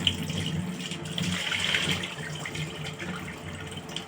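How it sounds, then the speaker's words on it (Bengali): Tap water runs steadily into a sink while peeled beetroots are rinsed beneath it, a constant close splashing hiss with slight shifts as the roots are moved, and no one speaking. "বিটরুটগুলো চামড়া ছিলে তারপর এখন ধুয়ে নিলাম"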